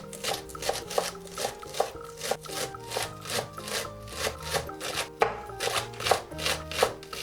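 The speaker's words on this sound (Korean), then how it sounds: "대파 한 줄도 십자로 칼집을 내주고 최대한 작게 잘라주세요" A knife dicing a scored green onion stalk into tiny pieces on a cutting board, with rapid, even chops close to the mic that keep up a steady rhythm throughout, and no talking.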